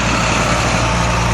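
A truck rumbles past on the road, a steady, loud low engine drone with broadband road noise filling the moment, heard near while waiting beside a white 2018 McLaren 720S.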